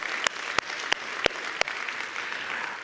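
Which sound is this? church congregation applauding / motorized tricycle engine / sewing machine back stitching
church congregation applauding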